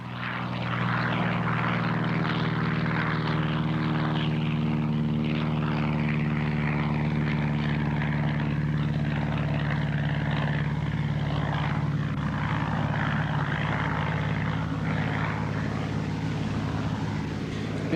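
A small propeller aircraft flies supplies to Tarahumara settlements in the Sierra Madre mountains, its engine a loud, steady, droning hum with a strong low pulse that holds evenly for the whole stretch, with no voices.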